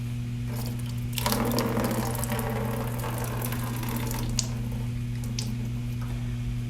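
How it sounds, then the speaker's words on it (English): Water drains out of a removed water treatment cell, a soft gurgling trickle and squishy splashing over a constant electrical hum. "So you can drain the water out of it."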